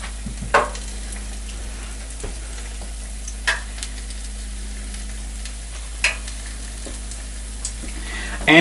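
Corn dog nuggets frying in hot oil give a steady low sizzle with a few soft stirring clinks and bubbles at intervals, close and alone without talk.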